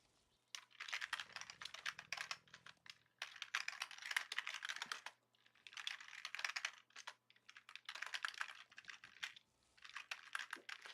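Bursts of rapid typing on a computer keyboard, dense clattering runs of keystrokes separated by short pauses, close-miked and steady, with no voices over them.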